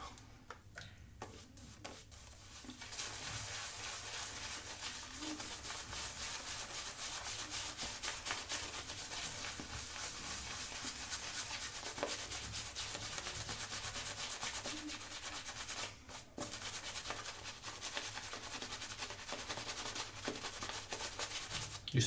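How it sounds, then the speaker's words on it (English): Shaving brush swirling and lathering Pro Shave shaving cream, a steady close brushy rubbing that runs without pause for the whole stretch, with no one talking. "I'm just dipping the tips of the brush."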